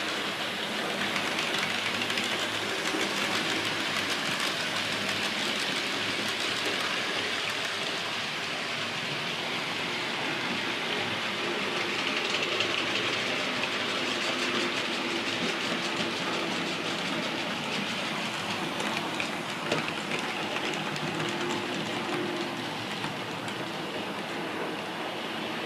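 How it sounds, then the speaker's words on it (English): A Class 37 diesel locomotive rolls past as a steady, continuous broadband roar with faint rhythmic rail clatter, holding an even loudness throughout with no voices. "Class 37, that's a definite Stratford machine."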